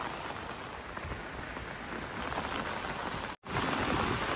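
Rain patters steadily on plastic covers over tomato, chilli and beetroot plants in a farm field at dawn. The hiss is dense and continuous and close by, with a brief dropout near the end.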